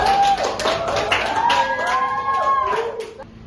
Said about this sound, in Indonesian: Oh mantap, tepuk tangan dong.